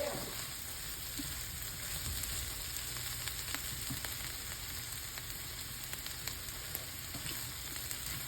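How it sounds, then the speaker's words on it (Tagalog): Bitter melon frying in a pan gives a steady, dense sizzle that holds evenly throughout, close up and fairly loud, with no talking. "I'm just cooking the vegetable before it's gonna go bad"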